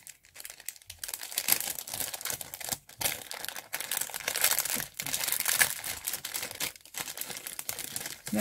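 Paper mail envelopes being torn and ripped open, a steady run of crinkling, tearing paper noise with brief pauses between rips, close and fairly loud, with no talking.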